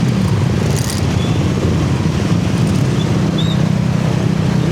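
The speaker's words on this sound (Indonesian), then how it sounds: "Emang kalau macet ya kayak gini" Dense road traffic crawling through a jam in Tangerang, a steady close rumble of car and motorbike engines with a constant low drone and no clear pauses.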